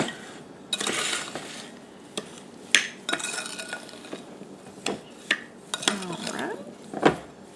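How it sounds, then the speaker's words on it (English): Blackberries and sugar are stirred together in a bowl for a homemade cobbler. A spoon scrapes and clinks irregularly against the dish, with sharp knocks scattered through a quiet background and no talking. "we're going to stir them all around until we get all the sugar mixed up"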